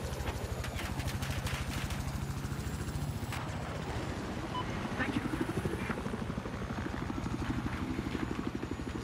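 A helicopter in the video game Battlefield 4 throbs with a fast, steady rotor chop close up and loud throughout, while a player talks over it.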